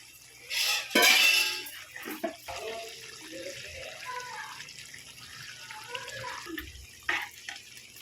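Water from rinsing is poured into a pan of cooking mutton liver with grated coconut, a loud splashing burst near the start, then quieter liquid sounds under a speaking voice.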